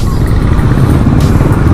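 A Rusi Adventure X 150i motorcycle engine drones loud and close in a steady, throaty rev with wind rush, heard alone.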